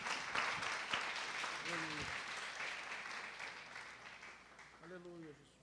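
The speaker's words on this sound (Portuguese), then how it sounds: "Dê uma salva de palmas ao Senhor." A church congregation claps together in sustained, even applause at moderate distance, with a couple of short voiced calls rising over the clapping.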